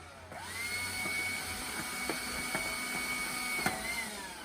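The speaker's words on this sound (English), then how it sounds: "Got a bit of a problem with my Hoover by the looks of it." A Hoover vacuum cleaner runs steadily with a loud whining motor tone that rises at the start, punctuated by a few sharp ticks and clicks, close and continuous with no talking.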